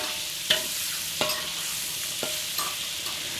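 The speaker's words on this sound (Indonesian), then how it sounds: "Sekarang lanjut lagi saya goreng terong" Eggplant frying in a pan at home, with a soft steady sizzle underneath a few sharp clinks and scrapes of a utensil stirring, spaced about a second apart.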